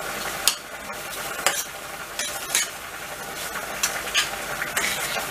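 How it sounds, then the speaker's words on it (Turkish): Tomato paste sauce with parsley is stirred in a hot pan. Steady frying hiss runs under sharp, periodic spoon scrapes and taps against the pan, close up and without speech. "Şöyle karıştırıyorum."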